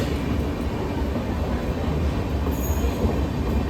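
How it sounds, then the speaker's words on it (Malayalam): A train pulling into a railway station, heard as a steady, loud rumble of rolling carriages with faint wheel squeal, running without pause and with no voices. "അങ്ങനെ ലാസ്റ്റ് നമ്മുടെ ട്രെയിൻ എത്തിയിട്ടുണ്ട്."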